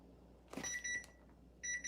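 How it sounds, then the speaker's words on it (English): A kitchen timer signals the pressure release on a pot with bright electronic beeps in two short clusters, preceded by a soft clatter, quiet and close in a kitchen, no talking. "there's our timer for the release on the pot"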